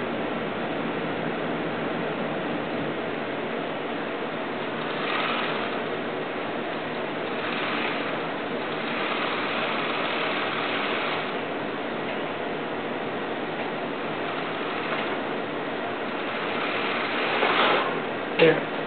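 A serger stitches mesh fabric for leggings, giving a steady, even machine whir that runs without pause, with a few faint ticks near the end.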